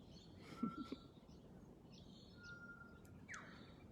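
Australian birds call near Noosa National Park at Peregian Beach, heard from a back veranda: faint, scattered chirps and a few thin whistles, distant and quiet against soft outdoor background.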